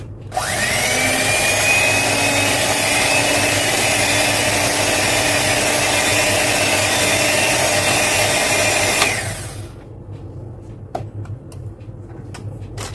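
An electric mixer whirs loudly and steadily for about nine seconds, beating martabak batter with salt, vanilla and milk powder, then shuts off, leaving faint clinks and handling noises.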